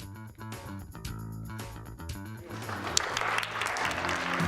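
Winners of the 2018 Osseo District 279 Art Show get applause: a stretch of tonal music gives way to a swelling wash of crowd clapping in the last couple of seconds.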